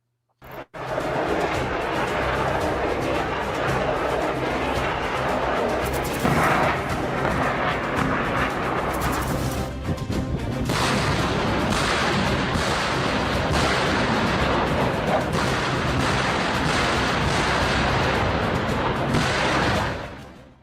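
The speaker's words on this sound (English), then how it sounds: "It has audio in, so you're going to hear rockets here." Rocket fire striking military bases during wartime, heard as a loud, dense, continuous barrage of booms and rumbling blasts lasting about twenty seconds, with no talking.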